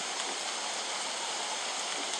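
Rain in the video game Don't Starve is a steady, even hiss of falling rain that holds a constant level throughout, with no talk over it.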